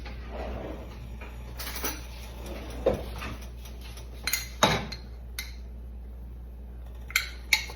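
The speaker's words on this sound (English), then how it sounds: "Get another spoon." A metal spoon clinks against dishes in a home kitchen, a few scattered light taps and clatters spread across a quiet background, with no talking.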